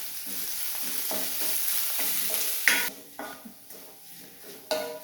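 Finely chopped ginger with green chillies, curry leaves, fenugreek and mustard seeds frying in hot oil in a pan, a steady close sizzle broken by repeated scraping strokes of a spoon stirring, with occasional louder clinks against the pan.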